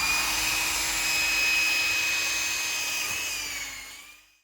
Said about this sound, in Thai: ขอเริ่มที่สว่านโรตารี่กันก่อนเลยแล้วกันครับ